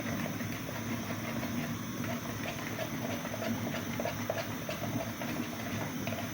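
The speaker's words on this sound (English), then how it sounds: "you see my water is boiling" Water coming to a boil in a pot while making porridge, a steady dense hiss and bubbling rumble that holds evenly throughout with no talk.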